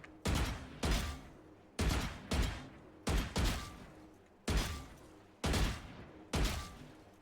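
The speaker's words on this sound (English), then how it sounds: "I will practice some longer range shots with the Vandal" Vandal rifle shots in Valorant, fired in pairs and short bursts at range, sharp loud cracks with quick decaying tails, spaced across the span with no talk.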